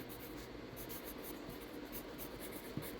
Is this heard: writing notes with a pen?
yes